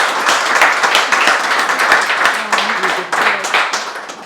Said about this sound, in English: Could you just give these two a round of applause?